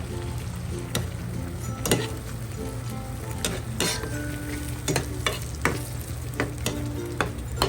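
Garlic shrimp frying in a pan with spicy ketchup give off a steady close sizzle, broken every second or so by sharp scrapes and clicks of stirring.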